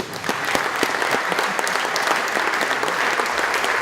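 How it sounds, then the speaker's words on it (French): An audience at the Prix Carbet 2013 award ceremony applauds steadily, a dense patter of many hands clapping that holds at even strength throughout, with no speech over it. "Je vous demande de les applaudir, s'il vous plaît."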